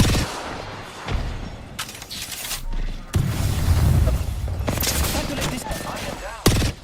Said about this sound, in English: Squad is firing at us.